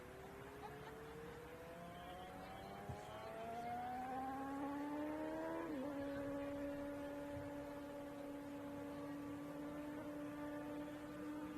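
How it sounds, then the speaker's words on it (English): Loud exhaust of a supercar revving close by, rising harmonic engine tones climbing steadily then dropping to a held high idle drone, heard from beside a women's soccer match. "I was just thinking that's an exhaust and a half"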